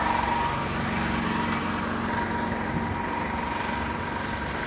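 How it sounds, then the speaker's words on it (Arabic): A motor engine runs steadily at close range, a continuous droning hum with a low rumble that holds level throughout, with no talk over it. "واحد الموتور ديرنا الصداع"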